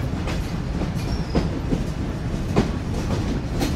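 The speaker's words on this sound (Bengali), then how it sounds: "Intercity Chitra express departure Kotchandpur railway station." Intercity Chitra Express passenger train running at night after leaving Kotchandpur railway station, Bangladesh, with a steady rumble and repeated clickety-clack of wheels over rail joints, heard from inside the carriage with no talking.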